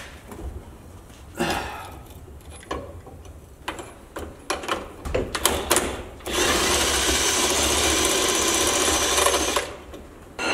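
A 7/8 wrench and socket work to break loose a bolt at the leaf springs of a rusty Jeep Cherokee: quick ratcheting clicks and metallic knocks come in bursts, followed by a loud, sustained rushing noise near the end.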